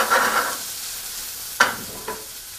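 Food sizzles in a hot, lightly smoking skillet, a steady soft hiss broken by a few sharp stirring or scraping clicks near the end.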